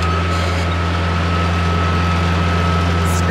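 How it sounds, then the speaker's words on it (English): A tractor engine runs steadily nearby while it scrapes out weeds, giving a continuous loud low drone with a constant hum that carries on without a break. "That is working on the tractor."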